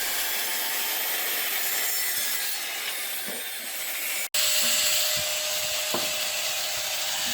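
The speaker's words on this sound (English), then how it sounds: "now cutting the lids, ends, a little bit longer than what is required" A saw rasps steadily through wooden lids and ends for beehive nucs in a continuous, close stroke, pausing briefly partway before cutting on.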